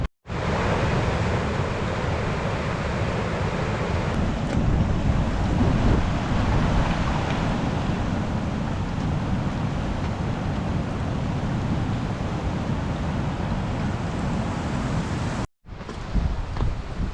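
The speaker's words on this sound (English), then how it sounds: "I'm just hoping this wind dies down because it feels" Strong, gusty wind roars continuously across a Lake District fell, buffeting the microphone in a dense low rumble with a brief drop near the end.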